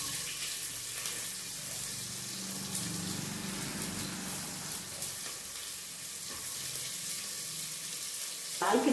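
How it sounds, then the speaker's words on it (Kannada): Onions frying in a pan with cumin for millet dal khichdi give a dense, steady hiss and sizzle throughout, close and continuous with no talk. "ಈರುಳ್ಳಿ ಹಾಕ್ತಾ ಇದ್ದೀನಿ."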